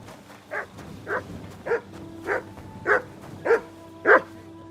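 A dog in Kingdom Come: Deliverance II barks seven times in an even, steady rhythm, each bark short and mid-distance over a low background hum.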